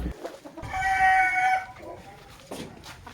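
A young rooster about six months old crows once, loud and close, a drawn-out call followed by brief clucking.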